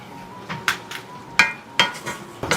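A spoon stirs a jackfruit and banana filling in a pan, giving a string of sharp clinks and taps against the metal, close up and uneven in rhythm, with no talking.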